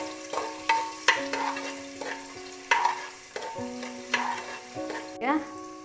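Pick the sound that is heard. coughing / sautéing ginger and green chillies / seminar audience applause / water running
sautéing ginger and green chillies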